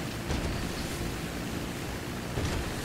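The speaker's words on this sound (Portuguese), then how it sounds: "Olha quanta onda aqui," Waves surge and wash over open water in GTA V, a continuous broadband roar with a swell near the start and another near the end, heard alone without talk.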